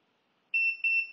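Two short, shrill electronic beeps in quick succession from a Runyes portable DC dental X-ray unit, clear and close after a moment of silence.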